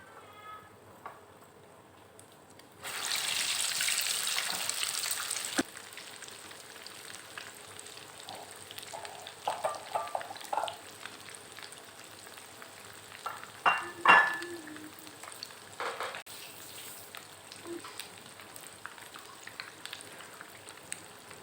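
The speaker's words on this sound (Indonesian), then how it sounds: "Kita goreng lagi." Misoa sizzling in hot oil, with a loud burst of frying early on, then softer crackling and occasional scraping stirs.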